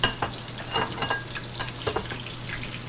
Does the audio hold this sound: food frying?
yes